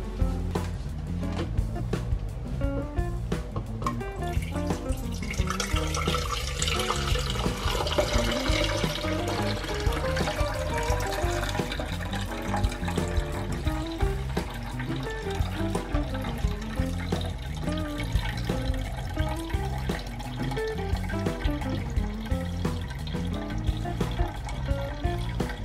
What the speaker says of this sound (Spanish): hemos puesto el cestillo y ahora vamos a poder colar